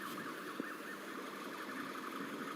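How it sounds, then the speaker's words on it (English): Alarms go off close by outdoors near a high school, with steady layered wailing tones that hold continuously at moderate level and no talking. "we're listening to some alarms that are going off very close to where we're at"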